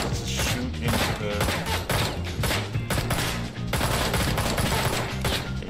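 Rapid automatic gunfire from a shootout in the video game Ride to Hell: Retribution, dense bursts of shots and thuds filling the whole stretch, loud and nearly continuous with brief gaps.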